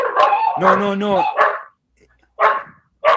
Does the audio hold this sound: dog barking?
yes